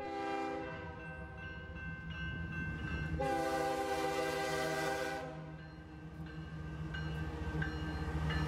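BNSF loaded coal train rounding a bend on the Fort Scott sub, a loud sustained multi-tone horn blast over the low rumble of the locomotive and rolling cars, the horn swelling sharply for a couple of seconds mid-passage.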